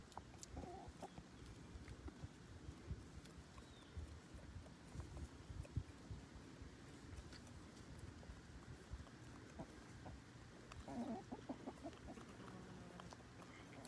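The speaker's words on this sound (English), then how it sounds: "Roosters are a male chicken. Hens are a female chicken." Chickens cluck in a chicken yard, soft scattered clucks over a faint, steady outdoor background, with a few louder bursts near the end.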